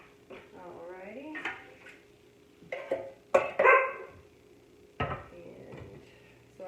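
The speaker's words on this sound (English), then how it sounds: "Sorry, that's my Australian Shepherd." An Australian Shepherd barks indoors in a home kitchen while taco soup is made, giving several sharp, separate barks spread over a few seconds, with a clink of dishes or pans between them.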